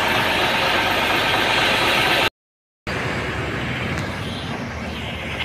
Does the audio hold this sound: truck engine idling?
yes